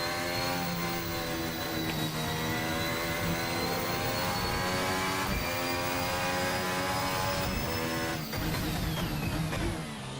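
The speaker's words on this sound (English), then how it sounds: "First of all, you hear the turbo, the MGU-H spooling the turbo up, and then the engine noise kicks back in at higher revs." A Formula Hybrid 2017 car in a racing sim drones at high revs, its layered engine whine loud and continuous, with a turbo spooling up and revs rising again near the end.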